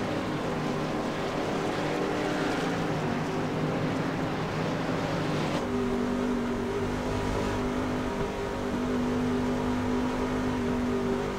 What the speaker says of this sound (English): Drivers are dropping those gears, getting ready to go back to green flag racing.